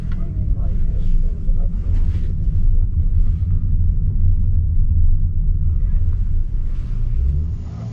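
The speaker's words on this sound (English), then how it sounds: "we're gonna run this other Supra, also right-hand drive, Mark IV" Right-hand-drive Toyota Supra Mk IV running a quarter-mile drag strip, its engine a loud, steady low rumble that holds throughout with some wind buffeting on the microphone.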